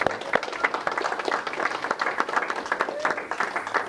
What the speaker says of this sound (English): Let's give Jean-Michel a big round of applause.